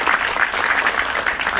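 A cinema audience in Mehsana gives a short burst of dense, lively applause, loud and continuous throughout.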